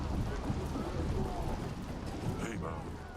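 Steady rain pours down in the medieval strategy game Yes, Your Grace, a dense, loud wash of falling water with a few brighter bursts near the end.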